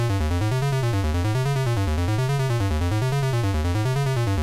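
A modular synth with a 4046 VCO oscillator runs a sequence through a VCA, producing a buzzy, harmonically rich tone whose pitch steps and swoops in a repeating cyclic pattern, steady and loud with no voices.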